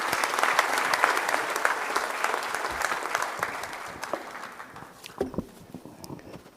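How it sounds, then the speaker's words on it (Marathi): Loud, dense applause from a large audience for minister Deepak Kesarkar, sustained for several seconds before thinning into scattered claps near the end. "जरा जोरदार टाळ्यांचा, श्रीमंत टाळ्यांचा कडकडाट केसरकर साहेबांसाठी"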